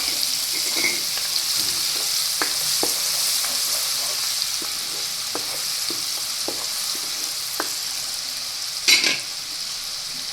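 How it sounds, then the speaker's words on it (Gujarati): Chopped green garlic and whole spices fry in oil for a Kathiyawadi varaliyu, a steady, moderately loud sizzle broken by scattered light clicks of stirring and a brief louder clatter near the end, with no talking. "અને ત્યાર પછી આપણે આ લીલું લસણ સુધારેલું છે તેને તેલમાં નાખી દઈશું."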